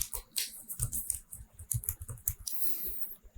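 Rapid typing on a computer keyboard while entering a label into an Excel dashboard, with close, crisp clicks in uneven bursts and short pauses between keystrokes.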